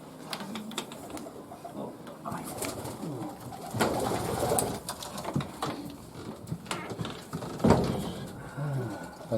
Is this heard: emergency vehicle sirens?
no